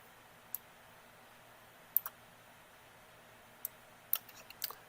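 Computer mouse clicks during dental facial-scan software work, a handful of sharp, faint clicks spaced irregularly over a quiet room hum, some coming in quick pairs.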